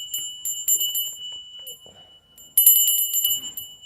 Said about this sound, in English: I got my good bell here. Let's do 3 circles.